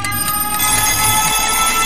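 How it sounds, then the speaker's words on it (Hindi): Morning alarm clock ringing, the third alarm of the day, a loud continuous electronic ringing tone that fills the whole stretch without pause, close and alone. "बजता है अलार्म नंबर 3।"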